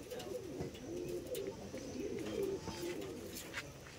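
Pigeons cooing softly in a rural village loft: repeated low, rolling coos, fairly quiet, with faint ambient background.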